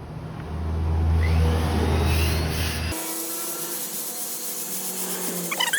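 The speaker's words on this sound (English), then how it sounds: "Get out our little trusty wheels." A small polishing wheel buffs a matte 22k gold ring in a goldsmith's workshop, starting as a loud steady motor whir with a rubbing hum that cuts to a quieter, thinner grinding whine partway through, with no talk.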